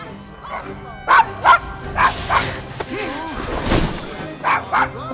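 A dog in the Assassin's Creed Syndicate video game barks repeatedly in short, close yips and woofs, roughly eight bursts in uneven pairs, mixed with some whimpering and panting sounds, with someone talking over parts of it.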